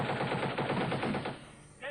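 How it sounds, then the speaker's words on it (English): Warning shots from a Warrior armoured vehicle ring out as a rapid burst of repeated automatic gunfire, fairly distant and steady before cutting off near the end. "Eventually, a warrior armoured vehicle did fire warning shots."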